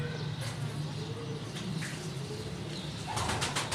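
An Indian pigeon coos softly in low, rolling notes over a faint, steady background, with a brief flutter of wing sounds near the end.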